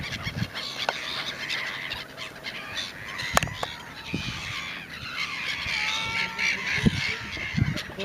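Seagulls or pigeons being fed by people on the Rhine let out scattered honking calls and squawks at close to middle distance over a constant outdoor background hum.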